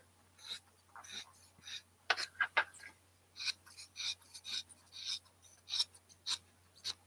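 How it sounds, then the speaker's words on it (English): Scissors snipping through quilting fabric for a large block, a steady run of short crisp cuts in irregular bursts, close and fairly quiet with no talk. "So I'm going to cut out a big block."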